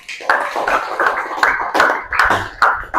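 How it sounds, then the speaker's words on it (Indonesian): A small group of listeners in a classroom teaching session claps in a string of close, distinct, evenly spaced claps, a sparse and crisp patter rather than a full ovation. "Tepuk tangan dong untuk Mas Bimo."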